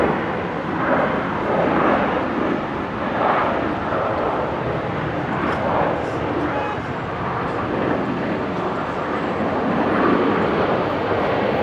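Qantas 520 airliner landing on runway 19 left at Brisbane airport, a loud sustained jet engine roar with rumbling broadband noise holding steady throughout.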